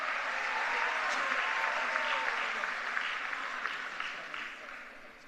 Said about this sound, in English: Let's give Mr. Lamp a round of applause